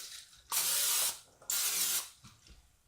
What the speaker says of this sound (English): And now I'm going to grease my 2 glass bowls up